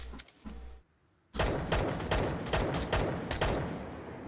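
Gunfire from the video game Knives Out: a rapid burst of loud, close shots in quick succession, coming after a short quiet gap that follows a few softer earlier thumps.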